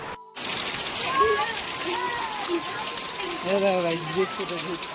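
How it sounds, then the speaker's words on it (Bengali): Rain falls steadily outside as a constant broadband hiss that begins abruptly after a brief silence and continues evenly throughout, with voices speaking softly underneath. "এখন বৃষ্টি তো পড়ছে বাইরে"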